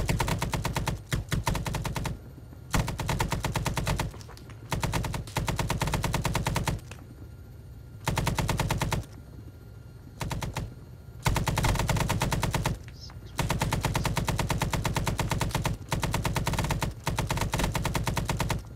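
Sustained bursts of automatic machine gun fire in ArmA 3 S.O.G. Prairie Fire, loud and close, firing in long rapid strings with brief pauses between volleys and no talking.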